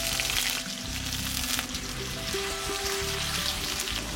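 Potatoes added to hot oil with cardamom, cloves, cinnamon and cumin seeds frying over low heat: a close, steady crackling sizzle throughout, with bubbling and light spattering.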